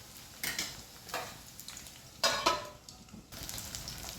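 Potatoes and pointed gourd frying in a pan, with bursts of sizzling as pieces are stirred and turned, several scraping, hissing surges over a steady low frying hiss, close and fairly clear.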